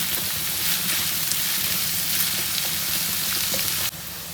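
Onions and green chilies sautéing in a pan make a loud, steady sizzle and crackle with no break, then drop slightly quieter near the end.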